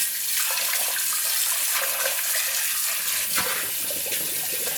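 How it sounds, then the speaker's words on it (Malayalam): Water runs steadily while a new clay cooking pot is washed with gram flour, a continuous splashing flow with a few sharper splashes and knocks, close up and with no talk. "കടലമാവ് ഉപയോഗിച്ചിട്ട് നമുക്കിത് കഴുകിയെടുക്കാം"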